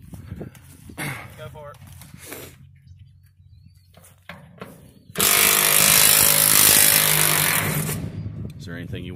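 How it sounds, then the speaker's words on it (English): Power tools pulling bolts from a 10,000-bushel grain bin being taken down, a loud sustained whining burst in the middle with clanks and people talking nearby before it. "So, as you hear, they're removing the Brazilian bolts from this thing."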